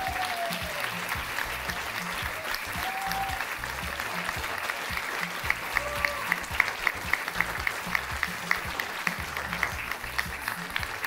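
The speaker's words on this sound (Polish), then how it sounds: "Ogromne, ogromne brawa." Audience at a Scena MOK stage show applauding a singer and her children's choir, with steady, dense clapping from a full hall that later falls into a rhythmic clap-along.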